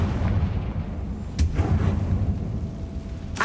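A Confringo fire spell bursts in the video game Hogwarts Legacy, a sharp booming blast heard alone, followed by a second explosive hit near the end.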